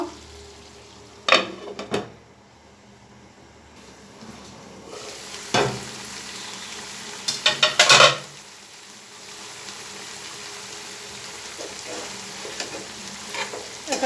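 Taro stolons cooking in a pan for a dried-fish curry, with a steady low sizzle broken by a few sharp stirring scrapes and clanks of utensil against the pan.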